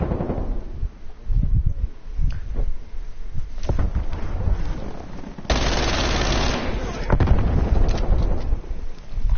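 Hostile sentry turrets open fire in a video game: bursts of rapid automatic gunfire and sharp cracks, then a dense, continuous roar of shooting in the second half.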